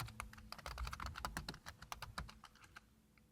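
Quick, steady clatter of code being typed on a computer keyboard, close and quiet, fading toward the end with no talk.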